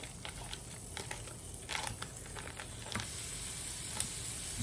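Two sticks of sweet salted butter melt in a skillet for a Cajun egg boil, giving a steady close sizzle and crackle with small spattering pops throughout, no voices.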